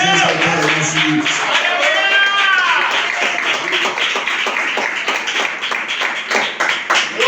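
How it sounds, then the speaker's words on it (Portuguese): A church congregation claps along during a worship service, steady rhythmic hand claps filling the space with singing voices and chatter mixed throughout. "Pode bater palmas e exaltar o nosso Deus."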